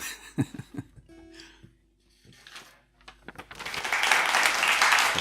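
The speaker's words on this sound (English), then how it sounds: "Thank you for the claps." An audience claps at a live-looping music stream, with scattered coughs and light laughter first, then a broad, steady swell of applause building near the end.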